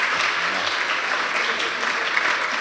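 An audience at a cultural evening talk applauds steadily, a dense continuous patter of many hands clapping at even loudness for the whole stretch.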